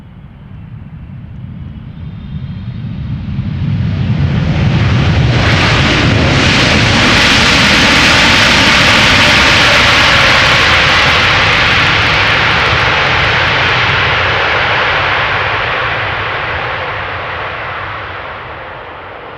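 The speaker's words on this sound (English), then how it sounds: "These 777s seldomly disappoint when it comes to making noise." A two-year-old China Cargo Airlines Boeing 777 freighter landing at Amsterdam Schiphol, its jet roar swelling from a distance to a loud, broad rumble overhead, holding for several seconds, then slowly fading.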